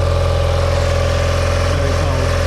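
A 1978 BMW R80/7 motorcycle, an ex-police bike, idles steadily while warming up in the cold, its loud, even, rhythmic engine beat continuous and close throughout.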